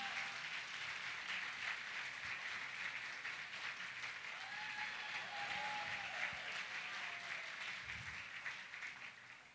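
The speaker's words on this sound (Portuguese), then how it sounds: "Se você pode aplaudir ao Senhor." A church congregation applauds during a women's conference service, producing a steady, dense wash of clapping from many hands that carries on unbroken and sounds somewhat distant and reverberant. Faint voices may be mixed in.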